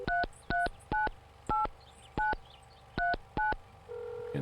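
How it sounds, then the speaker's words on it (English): Telephone keypad tones dial a number in the video game Mon Bazou: eight short, evenly spaced beeps sound clearly, then a steady ringing tone begins. "Did we phone Mum today?"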